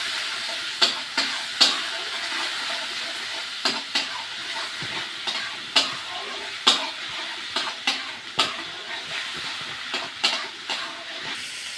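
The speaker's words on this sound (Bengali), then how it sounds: "দিয়ে দেবো একটুখানি জল মশলাটা সুন্দর করে কষার জন্য" Masala with turmeric and a little water cooking down in a pan for chicken: a continuous hissing sizzle broken by repeated sharp scraping stirs at an irregular rhythm, close and fairly loud.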